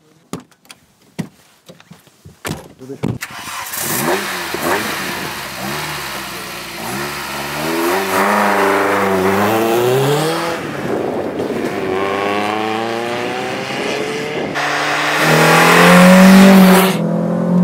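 After a few clicks and a quiet start, the throaty engine of a custom-modified VW Golf Mk1 revs up and pulls hard through rising gears, growing louder toward the end.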